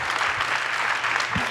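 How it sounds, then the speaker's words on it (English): An audience at a McKinney, Texas State of the City event claps for the panelists, dense steady applause filling the room without pause. "give a round of applause for our panelists"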